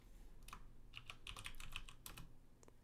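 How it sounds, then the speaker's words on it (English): Quick, light keystrokes on a computer keyboard patter in an irregular burst, faint and close over a quiet background during an online meeting. "Typing."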